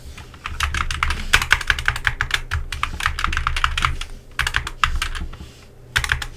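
An address is typed on a computer keyboard in quick close bursts of clicky keystrokes, broken by brief pauses.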